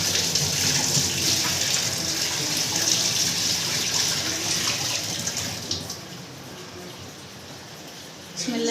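Tap water runs steadily while coriander is washed under it, a close, full gushing stream that eases off near the end, with a voice faintly beneath it.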